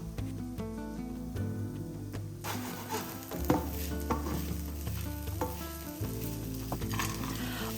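Tofu fries in a pan with a continuous sizzle and crackle, overlaid by scraping and stirring noises and soft background music.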